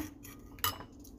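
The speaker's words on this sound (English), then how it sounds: "So we're gonna stir it up, make a little batter." A utensil clinks and scrapes briefly against a bowl while stirring batter for frying lion's mane mushrooms, quiet and close with one sharper knock.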